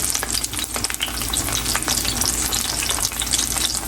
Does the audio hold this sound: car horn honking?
no